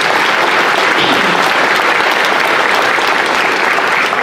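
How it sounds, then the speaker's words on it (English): Loud, dense applause from an agricultural event audience after opening presentations, a continuous roar of many hands clapping at close range without letup. "Let's give them another round of applause."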